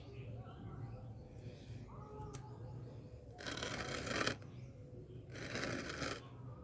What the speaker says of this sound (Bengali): ব্যাস এটা কাটছি এই ডাল এখান থেকে কাটি